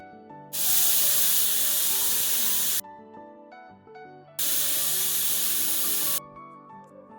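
A pressure cooker cooking paneer soya chunks pulao lets out two long, loud, forceful hissing bursts of steam with a quieter pause between them. A faint tonal background continues throughout.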